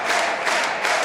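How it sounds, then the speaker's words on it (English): An arena crowd at an MMA cage fight chanting together in a loud, rolling roar that swells twice within a single second. "The whole crowd is chanting,"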